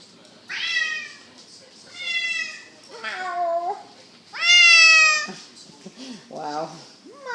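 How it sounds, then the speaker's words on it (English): A pet cat meows several times in a row, close and loud, each cry rising and falling, with a voice speaking nearby between the calls. "He meows when he's close to you."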